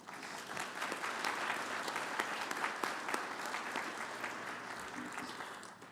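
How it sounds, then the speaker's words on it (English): Sustained audience applause fills a conference room at an opening session, dense steady clapping from many hands holding even for the whole stretch with no voices over it. "let's just give those leaders all a round of applause, please"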